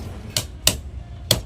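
A hammer taps coils into place in an alternator stator during rewinding: three sharp, close metallic knocks spaced unevenly across a quiet workshop background.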